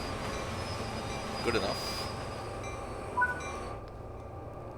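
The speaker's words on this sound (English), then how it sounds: "And dynamic brakes. And train stops." An SD70ACE locomotive in Train Sim World 4 rumbles and rolls as it slows to a stop on dynamic brakes, a steady rail noise with light squeals. Someone speaks briefly over it.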